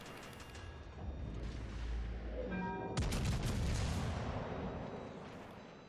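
Heavy naval gunfire from a warship battle game, booming salvos and rumbling blasts rolling continuously and loudly, with a sharp fresh volley striking around the midpoint.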